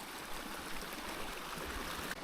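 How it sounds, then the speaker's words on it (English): A river near Old Man Creeks on the path up to Kinder Scout rushes and splashes in a steady, broad wash of moving water, with no voices over it. "Just crossed the river there, it was a bit dodgy."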